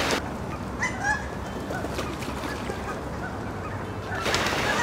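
A flock of domestic ducks at gardens calls and honks steadily over a dense, noisy outdoor background, with a few louder squawks standing out.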